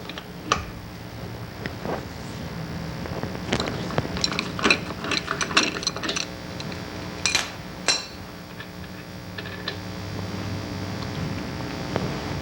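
A ratchet clicks in quick bursts as it backs off the stub axle retaining nut on a Bentley 3 1/2 or 4 1/4 litre wheel hub, close and crisp over a steady low background hum.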